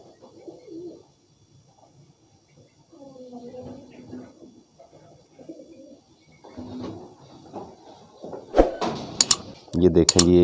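Soft, low pigeon coos repeat through the first half, then louder knocks and rustles come near the end.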